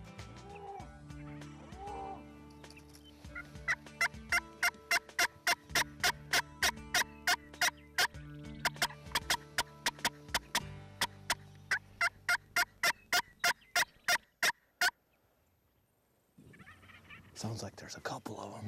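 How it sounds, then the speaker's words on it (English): Wild Merriam's turkeys gobble repeatedly in spring, a rapid series of sharp, loud calls repeated over about ten seconds with other birds faint in the background, then a quiet gap before more calling. "Turkey's gobbling right over there."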